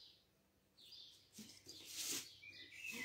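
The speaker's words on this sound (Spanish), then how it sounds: "En casa también tenemos pájaros, ¿eh? Pero estos son de la calle." Wild street birds chirp faintly outdoors, a few scattered high tweets with brief pauses, distant and soft.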